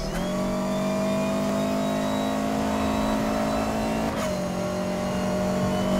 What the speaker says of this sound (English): Accelerates a lot faster with that aero body